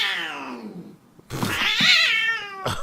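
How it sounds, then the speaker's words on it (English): An angry cat yowls and growls close by, a drawn-out, falling moan followed by a brief pause and then a louder, rising caterwaul ending in a short snarl. "It just made me amused, like how mad this cat was at this guy's foot."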